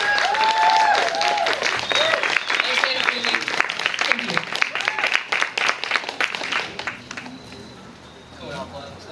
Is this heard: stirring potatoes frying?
no